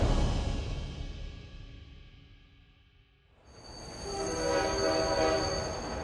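A China-Europe Railway Express freight train rumbles past loudly and fades, then a long, steady horn blast sounds over renewed rolling rail noise.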